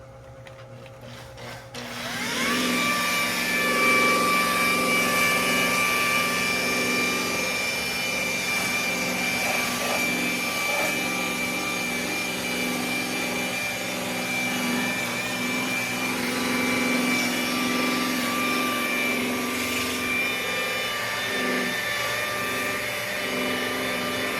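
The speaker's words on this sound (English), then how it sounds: "I've been using palm sander and the buffer" Makita palm sander or buffer working over car headlights, a steady loud whirring drone that starts after a brief quiet moment and holds evenly to the end with no talk.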